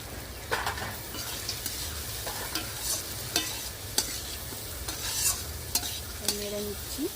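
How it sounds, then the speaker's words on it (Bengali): Poha seasoned with a five-spice masala is stirred in a hot pan, a steady scraping and sizzling with irregular spoon scrapes and taps throughout, close and moderately loud, with no voices. "নেড়ে নিচ্ছি"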